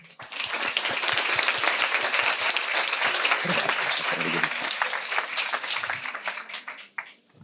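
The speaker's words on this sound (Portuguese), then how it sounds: "Uma forte salva de palmas para Manuel Lima" Audience applause greets a speaker at a design ethics talk: crisp, rapid clapping builds quickly, holds strong for several seconds, then trails off with a few scattered claps.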